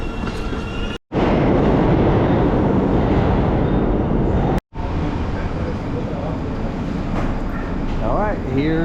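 Loud, steady rumble of a New York City subway train in motion, with brief cuts in the sound and people talking over the noise.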